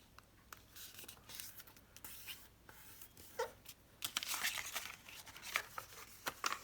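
Paper being folded and creased for a pop-up pocket, with close, soft rustling, sliding and crisp crinkles in irregular bursts that get busier toward the end.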